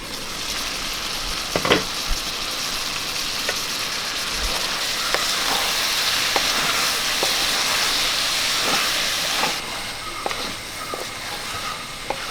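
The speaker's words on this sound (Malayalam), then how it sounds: "ഇനി നമുക്കിത് തുറന്ന് ഇളക്കി വെള്ളമെല്ലാം തോർത്തിയെടുക്കാം." Soya chunks stirred in an open pan as the water cooks off, giving a steady loud hiss and sizzle of steam throughout, with a few faint scrapes and clicks of the spoon.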